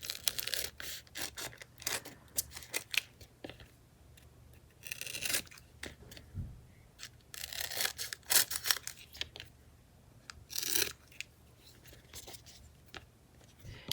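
Scissors trimming around a paper tag during a decoupage craft project, close snipping and rustling paper with clusters of sharp cuts and a few louder crinkling bursts.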